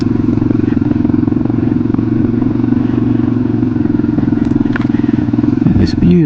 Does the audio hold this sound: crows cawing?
no